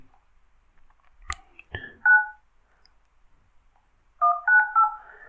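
On a Redmi Note 7 Pro running Lineage OS 18.1, phone dialer keypad tones beep as digits are tapped, one short pair then a quick run of three, with faint taps and clicks between.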